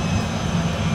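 A private jet just after landing, its engine noise a loud, steady, close drone with no voices over it.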